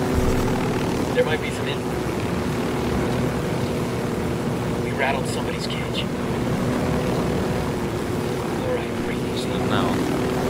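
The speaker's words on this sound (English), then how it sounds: "So they're on that boat, and there's a helicopter there." In the video game Ghost Recon, a helicopter's steady rotor and engine drone hums continuously near a boat, with someone talking over it throughout.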